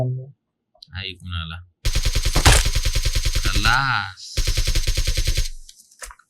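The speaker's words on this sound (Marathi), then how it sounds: "दुसऱ्यानं बंदूक चालवली ऐकून" Rapid bursts of automatic gunfire in a video game, two long, evenly spaced volleys, loud and close, with a brief voice and some clicks between them.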